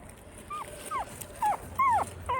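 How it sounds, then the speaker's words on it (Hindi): Five puppies, two female and three male, whimper and yip in a series of short, high, rising-and-falling cries, several quick calls close together over a low background hum. "2 पिल्लियाँ हैं और 3 पिल्ले हैं।"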